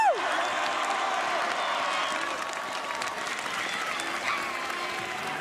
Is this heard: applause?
yes